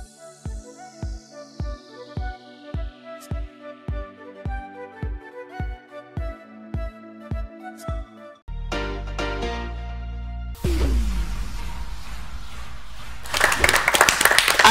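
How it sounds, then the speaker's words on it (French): Primary school pupils applaud in a dense wash of many hands clapping, which swells in the final seconds after a stretch of rhythmic music beats. "vous les entendez applaudir. Ce sont les élèves de l'école primaire"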